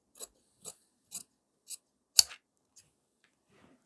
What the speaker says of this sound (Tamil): இப்போ சேம் மார்க் பண்ணதை அப்படியே கட் பண்ணிக்கலாம்